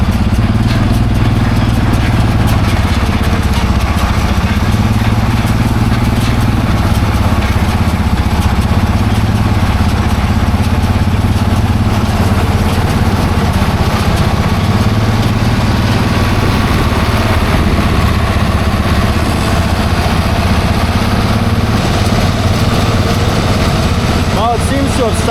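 A repaired farm baler's engine runs steadily and loud throughout, a constant low mechanical drone with no pauses, while a voice speaks faintly over it.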